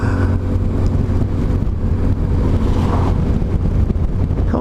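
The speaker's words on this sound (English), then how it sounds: "Oh, that wind." Strong outdoor wind buffets the microphone, making a loud, continuous low roar and rumble that never lets up, with no speech.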